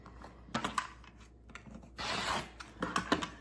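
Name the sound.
cutting t-shirt fabric near the armhole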